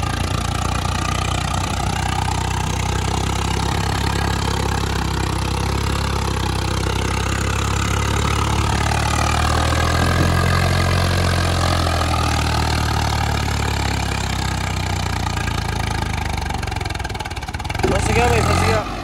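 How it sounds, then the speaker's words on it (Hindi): Tractor engine labouring under load while stuck, a steady low mechanical drone that holds throughout with a rising, changing tone near the end; voices can be heard over it. "ट्रैक्टर दब रहा है।"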